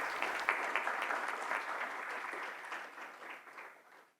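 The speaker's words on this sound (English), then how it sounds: "Warm round of applause," Audience applause at an award presentation during a children's world peace summit, where winners receive plaques; a steady, dense round of clapping holds for about four seconds, then tapers and fades out.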